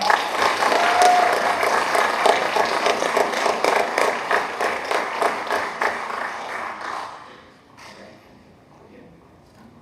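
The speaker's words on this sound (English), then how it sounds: "let's give a round of applause for Max for" A crowd applauding loudly at an esports hall of fame ceremony, a dense wash of clapping that holds steady for several seconds before fading out, with a brief voice near the end.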